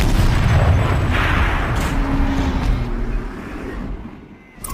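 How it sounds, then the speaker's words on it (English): Heavy turret cannon fire in Horizon Zero Dawn, a loud booming blast with a rumbling low-end body that rolls on for several seconds before tapering off, a short burst returning at the very end. "Rotate turret! And fire!"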